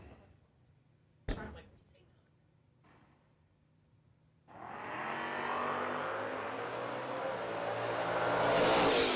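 A Chevrolet Chevette fitted with a long wheelie bar launches at a footbrake drag race, a sudden broad engine roar building and holding after a sharp click, heard from a distance under an announcer's voice.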